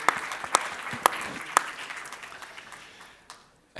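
At a hotel industry conference, a small audience gives a sparse round of applause: a handful of distinct, sharp claps that thin out and fade over a few seconds.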